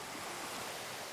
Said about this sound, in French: Dans ce ruisseau, Ottmar Grober a construit il y a quelques années un escalier de pierre